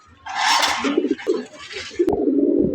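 Racing pigeons in a loft give soft, rolling coos and throaty calls, with wing and feather rustling and scratchy movement close by, in a short busy burst.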